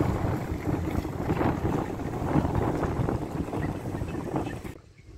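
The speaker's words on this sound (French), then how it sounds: "je sais pas si vous entendez bien, mais il y a du vent" Steady, loud wind buffeting the microphone with a broadband roar throughout, cutting off abruptly near the end.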